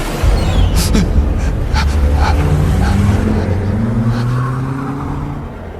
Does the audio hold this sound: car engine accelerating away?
yes